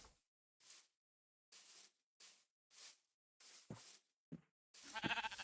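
A series of short video game sheep bleats, about eight, spaced irregularly with brief silences between, the last one louder and longer.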